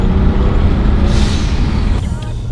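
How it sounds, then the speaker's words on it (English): Kia Stinger GT1 (2021) with an aftermarket turbo blow-off valve venting, a loud engine drone broken by a sharp hissing whoosh of released air around the middle, with talk over the top. "I just love the sound that these particular blow-off valves make."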